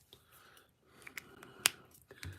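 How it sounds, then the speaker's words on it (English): Scissors snip through hair during a haircut, giving a few sharp, close clicks scattered over a quiet background. "when I go to cut into my next section, I'm going to be cutting here down"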